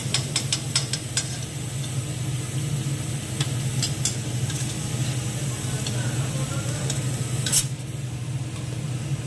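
Six kachoris stuffed with roasted gram flour fry together in hot oil, giving a steady dense sizzle throughout with scattered sharp pops and crackles close by, without speech.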